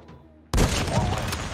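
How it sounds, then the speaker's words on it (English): Gunfire in Call of Duty's Ground War mode from a sniper rifle: after half a second of quiet, a loud sudden blast hits and is followed by a sustained, dense wash of battlefield gunfire and rumble that continues to the end. "Gotta love this sniper, man."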